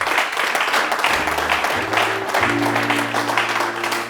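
A church congregation applauds and cheers in a steady, sustained wave of clapping, with sung or held voices rising above the crowd.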